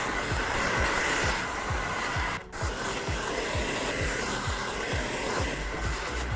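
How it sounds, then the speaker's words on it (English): A hand-held hair dryer blows steadily and loudly while long hair is dried upside down with a round brush for volume, the airflow holding constant apart from a brief dip where the stream is interrupted. "Sometimes I even stand up and blow dry my hair upside down for volume as well."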